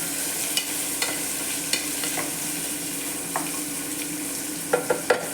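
Sliced onion and two green chillies fry in a pan for veg kurma, giving a steady sizzle with occasional spoon scrapes and taps against the pan.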